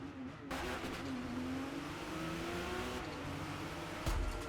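Race cars in Forza Motorsport roar steadily together at close range, engines droning and revving under a sustained whine, with a brief louder burst near the end.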